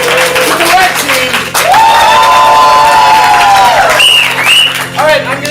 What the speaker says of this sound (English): applaud much louder for the team you want to win